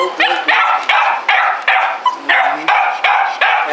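A small puppy barks over and over in a steady, insistent rhythm, loud and close, with short yips and whimpers between the barks as it tries to get out of an enclosure.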